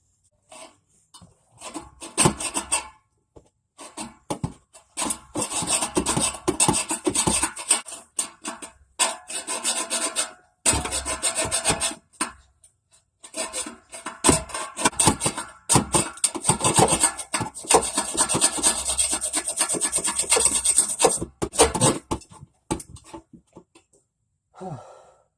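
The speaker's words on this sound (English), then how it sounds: "and the rest for the hacksaw" A hacksaw cuts through the exhaust pipe during a muffler delete on a 2010 Ford Taurus SHO, rasping in repeated back-and-forth strokes, close and fairly loud, with a few short pauses between runs of strokes.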